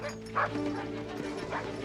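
Sled dogs in a team pulling a load on an expedition yip and whimper with short barks, close and fairly loud over a steady low hum, in a dubbed 1992 animated series.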